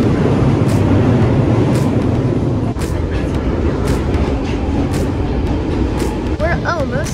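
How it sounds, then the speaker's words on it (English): London train running past loud and close, a continuous dense rumble and rattle of carriages that fills the whole stretch, with a brief high squeal near the end. "We're almost back. This is our train."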